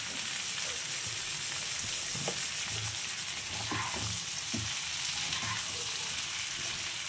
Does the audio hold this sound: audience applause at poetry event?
no